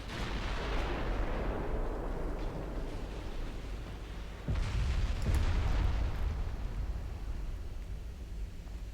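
Heavy naval gunfire rumbles aboard warships in a 1920 German battle in Ultimate Admiral Dreadnoughts, a continuous stream of distant booms with a sharper, louder blast around the midpoint, without speech.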